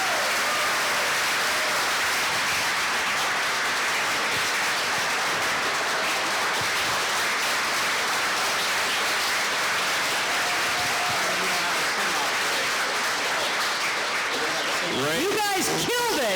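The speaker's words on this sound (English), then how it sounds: "let's give all three candidates a big round of applause." A steady, dense round of applause from an audience at a Clark County sheriff candidates' forum runs for the whole stretch. Near the end, a voice briefly rises above the clapping.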